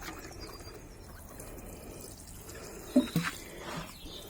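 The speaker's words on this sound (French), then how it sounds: "on va tout arroser" Water patters and trickles steadily over freshly sown rows of radish and carrot inside a garden tunnel, a soft continuous pour with a few louder splashes near the end.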